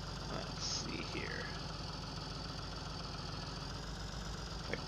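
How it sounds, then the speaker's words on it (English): A tractor engine idles steadily as the tractor creeps forward, a constant low rumble filling the whole stretch with faint voices and small knocks over it. "I creep the tractor up on here"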